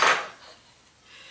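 A hot quinoa waffle is set down on a plate with a knife, making a single brief clink of metal on dishware, followed by faint quiet handling.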